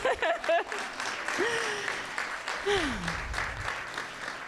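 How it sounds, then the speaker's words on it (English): Audience applause at a Wear Red Day event, a moderate spread of clapping that follows and overlaps a speaker's voice, which rises over it at moments. "clap it up"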